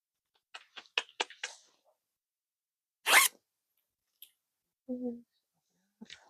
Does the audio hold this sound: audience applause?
no